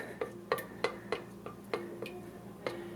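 A caramel-like mixture being stirred in a pot or bowl, producing a series of sharp utensil ticks and clinks against the container about every third of a second, close and moderately quiet with a faint hum underneath.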